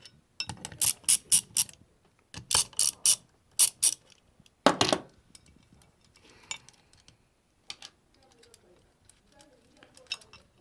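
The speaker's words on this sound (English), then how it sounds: "we're going to take the 13mm socket, and we're going to take off these bolts you see here" A 13mm socket ratchet takes nuts off a hoist hook, its pawl clicking in fast rattling bursts with short pauses, loud and close, then dropping to scattered lighter clicks and metal handling.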